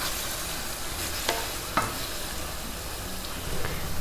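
Spiced masala kaleji, small pieces of liver, sizzles softly in a pan during stir-frying, with a few faint scrapes of stirring over a low, steady hiss.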